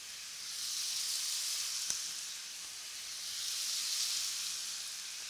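Kofta bites fry in a pan and give off a steady bright sizzle that swells and eases in waves, with one small pop midway and no talking.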